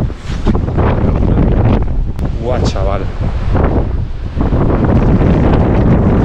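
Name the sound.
strong wind on the Faroe Islands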